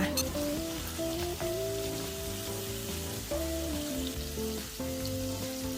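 Shrimp fry with garlic and pepper over moderate heat in a pan, a soft, steady sizzle under background music with shifting tones.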